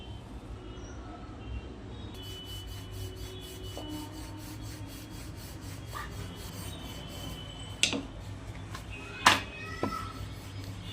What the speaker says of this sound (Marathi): आता आपण हे सर्वांना लाटून घेऊन घेणार आहोत